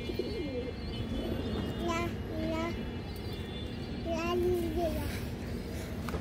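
Ring-eyed high flyer pigeons coo in soft, repeated bursts, a few throaty calls rising near the middle and again later, heard close over a steady background hum alongside a speaking voice.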